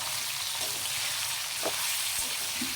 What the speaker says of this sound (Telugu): ఇందులో బాగా ఫ్రై చేసి